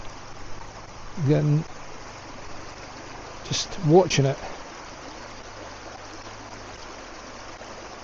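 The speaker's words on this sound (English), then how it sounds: "Just listening to a wee stream, you know, just listening to running water" A small running stream gives a steady, soft wash of trickling water throughout, with someone speaking briefly twice over it.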